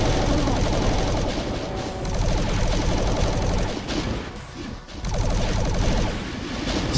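Dense, chaotic bursts of gunfire and explosions from demons firing in Doom II, a constant hail of shots with brief lulls between heavy volleys, loud and cluttered, with no talk.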